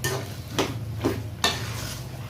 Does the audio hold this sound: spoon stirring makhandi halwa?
yes